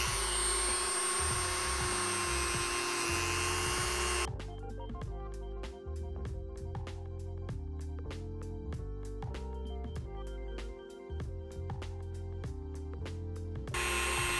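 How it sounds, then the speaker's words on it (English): A rotary tool fitted with a stone bit shaves the foam inside a Pelican 1720 rifle case, giving a steady, close high-pitched whine with rapid repeated grinding contacts through the middle of the clip. "I'm using the stone bit on here, and it'll definitely take a lot of these ridges out"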